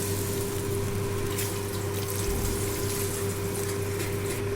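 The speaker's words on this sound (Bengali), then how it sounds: "ঝোলটা আমি যতটা রাখবো ততটা আমি জল দিয়েছি।" Hot water pours steadily into a pan of tangra fish curry with potatoes and eggplant, a constant close rushing wash with a low hum underneath, no voices.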